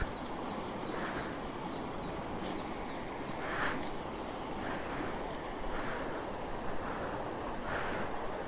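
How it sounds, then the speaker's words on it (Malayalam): River water rushes with great force along a forest route, a dense, steady roar that stays constant throughout, with wind buffeting the microphone and no talking. "നല്ല ഫോഴ്സിലാണ് വെള്ളം ഒഴുകുന്നത്."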